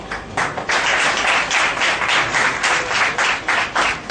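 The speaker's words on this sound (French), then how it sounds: "je souhaite également des applaudissements" A political gathering's audience claps in rhythmic, pulsing bursts, loud and close, with the beats rising and falling in waves and no speech over it.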